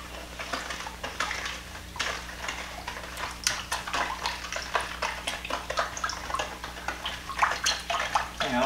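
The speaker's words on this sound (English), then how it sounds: "Alright, let's keep stirring this bad boy up." A spoon stirs Kool-Aid and sugar in a container, with a steady stream of scraping, clinking and sloshing strokes, fairly close and continuous, with no talk.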